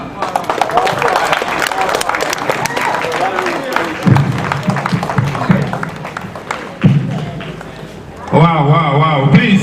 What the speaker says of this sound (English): let's give a round of applause for this history maker